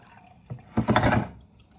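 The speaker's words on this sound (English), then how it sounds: "And I'm going to do the same thing with this. Drain the water out." Water from a can of white sweet whole kernel corn splashes out in one brief, close gush lasting about half a second, with a faint knock just before it and no talking.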